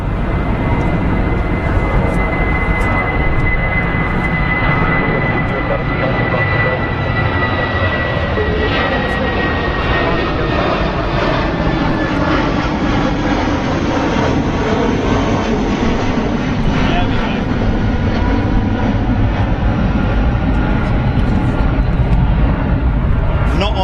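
An airliner taxis to the gate at London Heathrow with a loud, continuous engine roar and a slowly gliding whine, its drone filling the scene while people talk over it.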